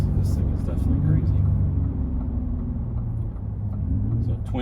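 2023 Ford F150 Raptor with twin turbo V6 in exhaust mode, deep engine rumble rising and falling as it revs and downshifts during a drive in Baja, heard from inside the cabin with a voice talking over it.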